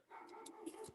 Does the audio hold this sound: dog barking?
yes